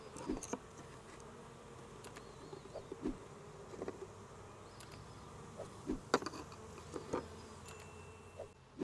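Honey bees from a package swarm buzz softly and continuously around an open hive during installation, with scattered light knocks and taps rising above the steady hum.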